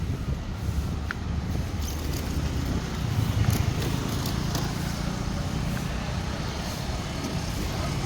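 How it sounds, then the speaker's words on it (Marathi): A garbage truck passing on a busy road near a bridge under construction, a loud continuous low engine rumble with steady traffic noise and no talk. "कचरे की गाडी पे गाडी."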